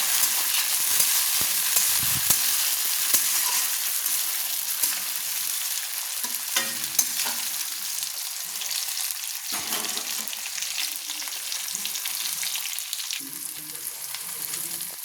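Chopped tomato being stirred into a frying broiler-chicken curry, with a continuous close sizzle and intermittent scraping and stirring strokes of a spoon in the pan, no voices.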